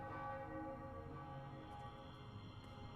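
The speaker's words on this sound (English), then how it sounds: "Listen to the bells." Church bells toll steadily in the video game Morrowind, a sustained ringing with layered overtones that stays fairly loud across the whole stretch with no voices.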